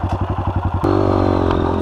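A trail motorcycle near the Pitangui dunes chugs in rapid rhythmic pulses up close, then the engine revs hard into a loud, steady roar.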